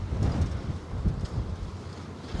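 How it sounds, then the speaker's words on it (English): Wind blows by open water, buffeting the microphone in uneven low rumbling gusts with no other clear sound. "it's just so windy out here by this open water"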